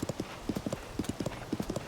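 Horse hooves clip-clop in a quick, steady gallop rhythm in Tears of the Kingdom, close and distinct over faint background.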